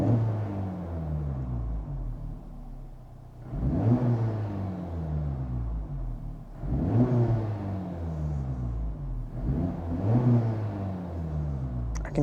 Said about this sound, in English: Let's give it a few revs and see what it sounds like from inside the car.